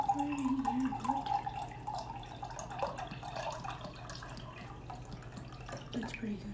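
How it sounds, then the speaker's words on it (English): Lime margarita mix poured into a cup, giving a trickling, dripping liquid sound that runs unevenly under people talking. "let's get the cup and pour some in here"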